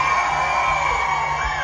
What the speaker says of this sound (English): Give me a cheer if you live in Hathern